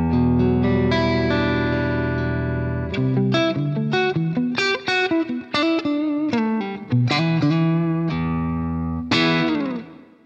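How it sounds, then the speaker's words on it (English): Electric guitar played through an Axe FX 3 modeller on a clean tone with a little grit, with sustained chords and quick single notes ringing out loud and clear with a touch of reverb, no voices. "this is my clean tone"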